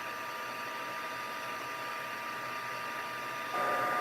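A heat tool blows a steady, loud whooshing hum as it melts embossing powder on foil, running without a break and growing slightly louder near the end.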